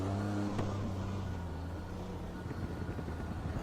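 Race car engine in the Raceroom game, a GTO Classic at Portimao, droning steadily and fairly loud with a brief rev blip as it drops toward second gear, then a rougher, pulsing note.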